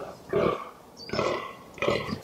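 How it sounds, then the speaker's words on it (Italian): A rutting male fallow deer gives three deep, guttural, burp-like grunts at an even pace, close and fairly loud against a quiet outdoor background. "il daino emette un suono piuttosto particolare. Viene sempre chiamato bramito"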